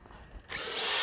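A power drill starts abruptly and whines steadily, boring holes for mounting a tractor canopy, loud and close after a brief quiet moment.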